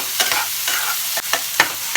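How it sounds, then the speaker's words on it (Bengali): Potatoes get stirred with a spice paste in a pan while cooking a mochar ghonto made with Gobindobhog rice, with a loud, close sizzle broken by several sharp scraping strokes of a spoon. "আমি আলুগুলো মিশিয়ে আরও কষিয়ে দিচ্ছি"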